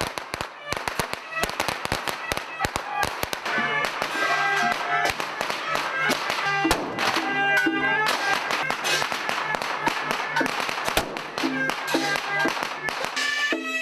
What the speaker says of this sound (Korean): 갑자기 폭죽이 터져 나오기 시작했습니다.